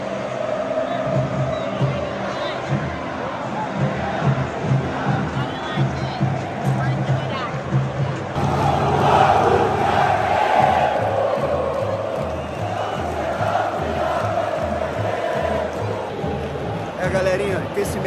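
Rival football supporters at a Flamengo versus Vasco semifinal in a stadium, chanting as a dense distant roar with rhythmic pulses, swelling louder midway, with nearby talk over it.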